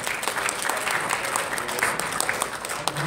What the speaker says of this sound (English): let's give a big round of applause to Michael